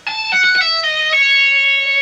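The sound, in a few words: guitar pull-offs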